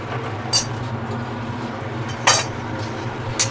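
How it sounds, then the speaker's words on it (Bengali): Semai vermicelli is stirred in a pan for payesh, a low steady hum broken by three sharp metallic scrapes and clinks of the spoon against the pan. "একটু ভালো করে নাড়া, যতক্ষণ না ব্রাউন হবে নাড়াচাড়া করে নেবে।"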